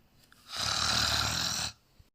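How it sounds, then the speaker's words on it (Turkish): A person snores once in a single long, loud, rasping breath lasting about a second, framed by near silence before and after. "Horladığını duymayayım he."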